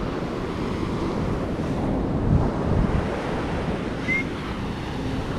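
Ocean surf rolls onto a wide beach at San Pancho, Mexico, as a continuous wash of breaking waves mixed with gusty wind buffeting the microphone, with no talking.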